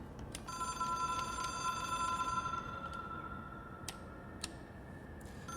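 A ringing telephone, an object of power in the video game Control, trills steadily beneath a rushing ambient bed, joined by a few sharp ticks and clicks.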